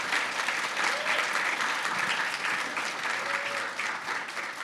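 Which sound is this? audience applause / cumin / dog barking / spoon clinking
audience applause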